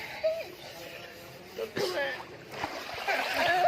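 Bathers splash in the cold water of the sarovar at Gurudwara Panja Sahib in Hassan Abdal, Pakistan, with a few soft splashes and sloshes under close, continuous talking.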